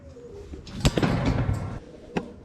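Soft cooing from a male pigeon near the mic, mixed with rustling and a couple of sharp knocks.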